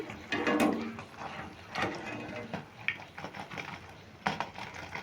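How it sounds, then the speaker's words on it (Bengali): Crispy raw-potato chops are lifted out of hot frying oil, giving scattered clinks, scrapes and light crunchy taps in irregular bursts close by, with short quiet gaps between them. "তোমরা আওয়াজে বুঝতে পারছো কতটা মুচমুচে হয়েছে"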